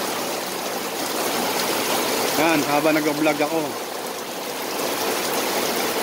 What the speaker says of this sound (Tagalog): Wow, lakas na ulan.